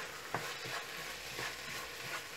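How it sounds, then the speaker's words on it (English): Coriander and parsley fish stuffing mixture sizzles in a pan, a soft steady frying hiss broken by several spaced clicks and scrapes of a spoon stirring. "Let it fry"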